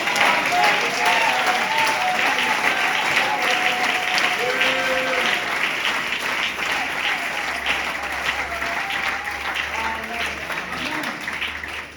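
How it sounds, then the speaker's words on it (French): A church congregation breaks into sustained, loud applause during a sermon, a dense wash of clapping lasting the whole stretch with some cheering voices and tonal sounds mixed in, tapering slightly toward the end. "Applaudissons la parole."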